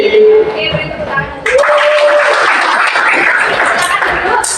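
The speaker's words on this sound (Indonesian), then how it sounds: "Oke, beri tepuk tangan." A class of pupils breaks into applause, a steady wash of clapping from many hands that starts suddenly after a voice and carries on loudly to the end.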